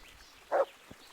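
A dog in the medieval video game Kingdom Come: Deliverance gives a single short bark, fairly close and moderately loud, with faint game ambience before and after.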